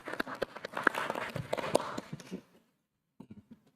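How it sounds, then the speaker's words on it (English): An audience at an advocacy workshop applauds Advocate Marcin Piechocki, a dense, steady burst of clapping that fades out after about two and a half seconds, followed by a few scattered late claps. "Let's give us another round of applause for Advocate Marcin Piechocki"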